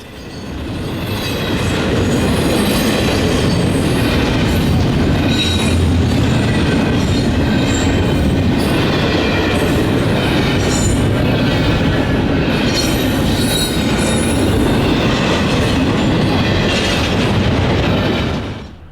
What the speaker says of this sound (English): where the locomotives were working hard through the hilly terrain